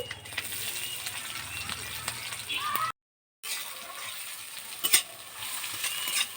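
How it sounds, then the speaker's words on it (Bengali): Chopped onion frying in oil with crushed whole garam masala in a pan, a soft crackling sizzle with stirring clinks and scrapes, a short silent gap, then sharper clatters later, close and fairly quiet. "পেঁয়াজটা ভালো করে ভেজে নেব।"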